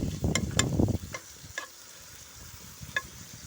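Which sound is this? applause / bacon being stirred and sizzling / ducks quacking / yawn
bacon being stirred and sizzling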